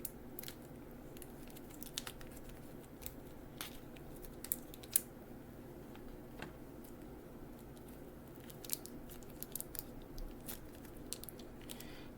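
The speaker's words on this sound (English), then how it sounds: "Let's get this plastic off of him." Plastic wrap is peeled off a Mafex No.223 Daredevil action figure, making faint, close crinkles and scattered small crackles over a quiet room.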